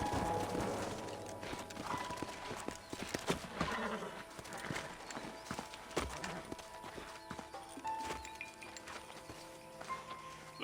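Horses in Red Dead Redemption clop along at a walk, hooves thudding in a steady rhythm beside creaking tack and ambient outdoor noise, with a brief snort.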